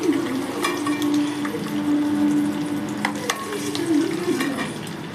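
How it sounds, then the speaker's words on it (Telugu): Eggs frying in hot oil with turmeric in a home kitchen, a steady close sizzle with a few scraping stirs of a utensil against the pan, running continuously with no talk. "ఎగ్స్ కొంచెం ఆయిల్ వేడయ్యాక పసుపు వేసి మంచిగా ఫ్రై చేసుకోవాలి"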